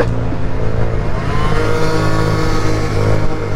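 A moped with no dB killer fitted runs close and loud, its engine rasping and revving continuously through the whole short stretch.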